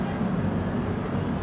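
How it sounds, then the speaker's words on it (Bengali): A train in Malaysia rumbles past nearby with a continuous, even low roar and rattle, with no voices over it. "আরেকটা ট্রেন।"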